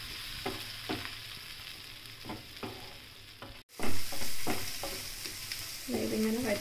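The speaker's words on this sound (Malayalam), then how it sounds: "ഇങ്ങനെ വഴറ്റിക്കൊണ്ട്" Unripe tomatoes sautéing in a pan for vegetable lasagna, a continuous sizzle broken by regular stirring scrapes of a spoon against the pan, with a brief cut and then a louder, closer burst of frying.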